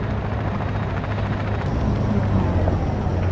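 An SR-71 Blackbird spy plane flies in the video game ARMA 3, making a continuous, loud, even engine roar with a low droning rumble and no voices.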